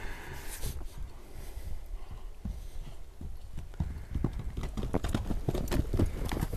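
Large heavy-set stallions' hooves clip-clop in a steady rhythm on the ground in a cramped yard at a horse sale, loud and close, with a few louder strikes toward the end.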